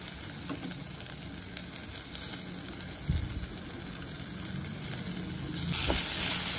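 Potatoes and onions sautéing in oil in a pan for aloo gobi sabji, a steady close sizzle and crackle running throughout with a few faint stirring knocks and no talking.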